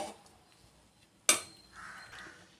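A spoon stirs carrot rice with lemon juice in a pan, giving one sharp metallic clank against the pan and then softer scraping, quiet and close with no talking.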